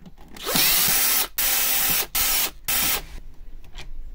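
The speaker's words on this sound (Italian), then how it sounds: "qui ci sono quattro viti qui li andiamo a svitare" Electric drill or screwdriver unscrewing four screws from an IP65 LED ceiling light fixture: several loud, sustained whirring bursts separated by short pauses, close up, with no talking.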